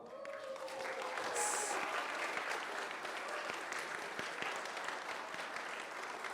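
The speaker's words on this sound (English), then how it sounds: "let's give a big round of applause and welcome Ambassador Vincent Piquet and Dr" Audience applause welcoming an ambassador and another guest speaker at a formal bilateral relations event, dense steady clapping from a large room that swells slightly early and holds evenly, captured at a faint overall level.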